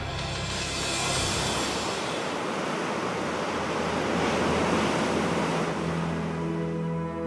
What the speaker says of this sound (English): a ship that's traveling across the Drake Passage. The Drake is some of the roughest ocean in the world